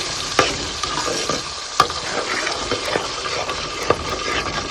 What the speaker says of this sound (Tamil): கரைச்சி வச்சுருக்க புளி கரைசலை இதில் சேர்த்துடலாம்.